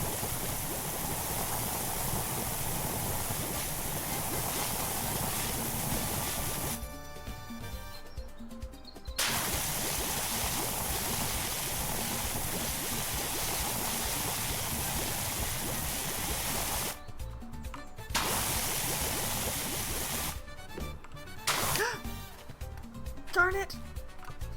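Steady broadband water spray from a pressure washer in the video game PowerWash Simulator 2, hissing continuously with a few short breaks, while a voice talks over it.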